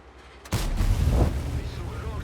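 A single loud, booming tank cannon shot in World of Tanks, fired from a UDES 14 Alt 5, bursts in abruptly after a brief quiet and then rumbles away.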